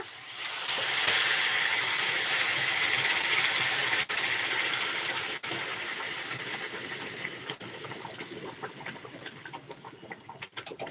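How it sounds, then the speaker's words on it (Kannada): Hot water pours and hisses into a hot pan of semolina and oil, a loud steamy sizzle that gradually settles into softer bubbling and crackling. "ಇಲ್ಲಿ ಬಿಸಿನೀರು ಹಾಕೊಳ್ಬೇಕು"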